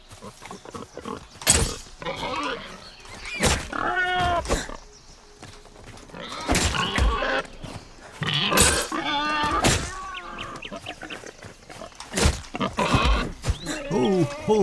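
Pigs in the survival video game Nightingale give a series of short, snorting grunts in irregular bursts, some loud and close, with quieter rustling gaps between them.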